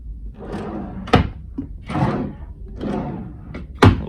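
Small drawer in a cruise ship inside cabin on the Marella Voyager, slid open and shut several times with sharp wooden knocks and sliding rumbles, close and distinct, with no talk.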